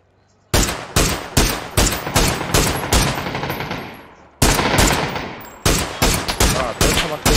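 Rapid gunfire from a Mini rifle in an online shooter game: loud, sharp shots in quick repeated bursts, a short lull, then another string of close shots.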